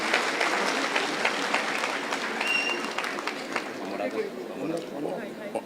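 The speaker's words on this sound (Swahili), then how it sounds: "Situwapigie makofi jameni" Clapping from a gathered crowd, steady and fairly close for several seconds, with voices mixed in and a few louder claps toward the end.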